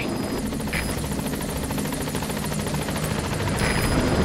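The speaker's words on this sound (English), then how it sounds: "Support helicopter has arrived." A support helicopter in a video game hovers close at the landing zone, its rotor thumping steadily and loudly with a whining turbine throughout, no voices heard.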